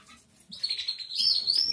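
Small birds chirp in a rapid, high twittering chorus that starts after a brief quiet moment and grows louder and busier, close by and without talk.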